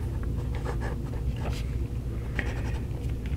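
A gold-filled vintage fountain pen nib glides across paper in soft, close scratchy strokes, a steady faint rhythm of short pen movements.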